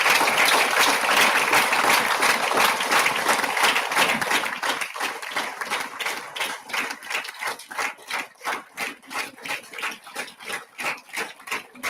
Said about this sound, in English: bring the guest along with other guests of honor to the dais among the claps of all of you